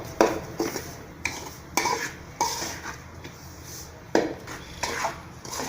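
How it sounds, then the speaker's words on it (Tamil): Semolina being stirred and roasted in a pan for rava ladoo, with a spoon scraping and knocking against the metal in irregular strokes, close and moderately loud, with no talk. "இந்த மாதிரி கைவிடாமல் நல்லா கிளறிட்டே இருக்கணும்."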